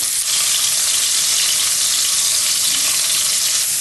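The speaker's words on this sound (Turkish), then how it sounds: "İşte aslında bu et suyunun içerisinde çevrilmiş soğanlar." Onion rings frying in meat broth in a pan give a loud, steady, dense sizzle and bubbling hiss that holds unbroken throughout, with no voices.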